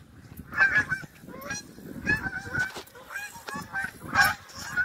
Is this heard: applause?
no